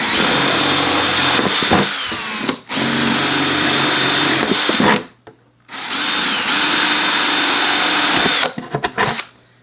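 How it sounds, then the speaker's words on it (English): Loud, close power drill with a very long drill bit whines in long bursts, stopping briefly twice between runs as holes are drilled. "I did pick like the longest drill bit in history to do this with."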